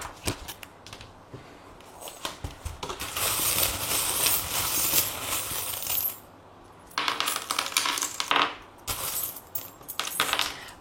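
Divination charms cast and tumbled onto a surface, giving a dense clattering metallic jingle of small objects in two long bursts with a short pause between, close and fairly loud, no talk.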